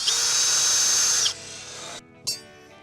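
A power drill pre-drills holes in composite stair treads, a loud high whine running steadily for over a second, then dropping to a lower spin-down before a brief final burst.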